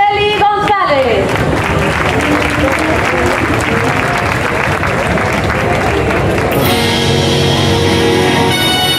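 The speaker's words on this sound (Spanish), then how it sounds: "Un fuerte aplauso para Araceli González." Loud, sustained audience applause from a crowd at the grand final of a copla singing contest at a fair, with cheering mixed in; instrumental music enters near the end.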